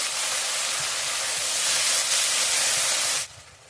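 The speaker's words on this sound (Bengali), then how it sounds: "তো মশলাটা ভাজা হয়ে গেছে, অল্প করে জল দিয়ে দেবো।" Water poured into a pan of frying ginger, garlic and onion masala hisses loudly and steadily, a broad steamy roar that holds for about three seconds before cutting off abruptly.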